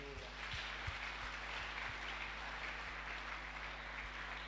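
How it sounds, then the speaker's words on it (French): A church congregation at a Sunday service applauds, a soft continuous wash of many hands clapping heard at a distance, with a steady low hum beneath and a few louder thumps. "Nous applaudissons le Seigneur."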